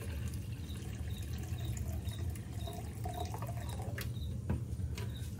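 Water is poured slowly and carefully into a measuring vessel while being portioned out for 650 grams of millet grain, giving faint trickling and dripping over a steady low background hum, with no one talking.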